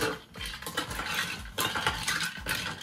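A homemade Dutch Bros-style raspberry drink stirred with a utensil, a busy run of close clinking, scraping and rattling that continues throughout.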